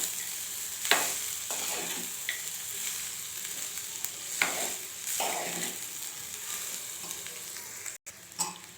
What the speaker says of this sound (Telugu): ఇలా మొత్తం రైస్ వేసేసుకొని ఒకసారి ఇలా మొత్తం మంచిగా కలిపేసుకోవాలి.